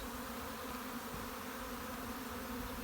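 A honeybee colony swarming out of a hive fills the air with a dense, steady buzzing drone from many bees, loud and continuous throughout with no voices.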